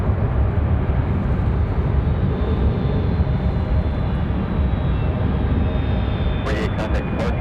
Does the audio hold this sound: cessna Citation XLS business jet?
yes